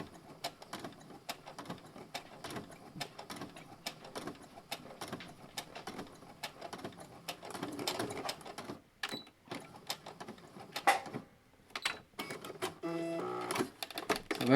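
A sewing machine stitches across a leather wallet's card holder, a quiet rapid mechanical patter that grows busier and louder toward the end, with a few brief gaps and clicks.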